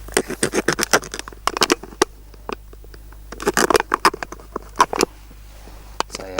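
A multi-tool's small saw attachment cuts through the hard top of a plastic bottle, giving repeated short rasping strokes in quick bursts with brief pauses, close up and fairly loud.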